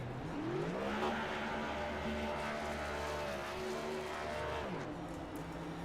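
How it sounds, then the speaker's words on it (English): Next Gen stock race cars do burnouts after a race at Iowa in a racing video game, engines holding a loud sustained high rev with tire screech and shifting pitch. "while the burnouts are happening for Brandon Evans"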